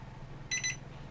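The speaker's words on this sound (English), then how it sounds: "and your alarm clock goes up" An EDUP Home 15-inch large 3D LED digital wall alarm clock sounding its alarm: a quick pair of bright electronic beeps, close and clear over a low background hum.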